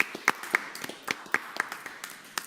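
Scattered hand claps from an audience at a school committee meeting, a handful of sharp, uneven claps trickling in over a couple of seconds, fairly close and fading rather than building.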